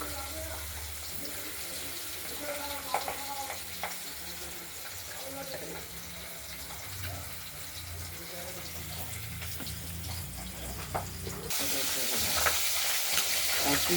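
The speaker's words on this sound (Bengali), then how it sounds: "এগুলো তেলে ভাজতে গেলে একটু ফুটে ওঠে তেল ছিটকে আসে" Steady sizzling of pabda fish frying in hot oil, a dense crackling hiss that grows louder near the end, with faint kitchen clatter.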